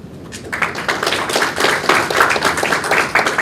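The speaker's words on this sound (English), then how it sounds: "It's a good thing that the applause happens before I start speaking." An audience at a national research challenge finals event breaks into applause, a dense crowd of hand claps building quickly and sustained at a steady level, fairly close, with no speech over it.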